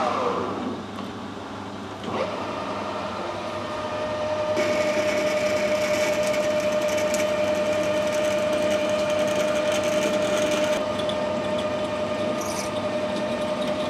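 Drill boring into metal held in a lathe tailstock, a steady mechanical whir with a sustained tonal hum from the spinning lathe, growing slightly louder as cutting proceeds, with no talk.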